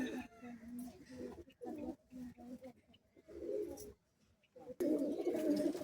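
Pigeons cooing in a loft in Bagnan, India: repeated low, throaty coos in short bursts, close and fairly quiet, with rustling and a louder burst of cooing near the end and faint voices nearby.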